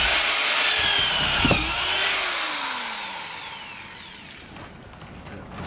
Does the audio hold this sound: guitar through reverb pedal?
no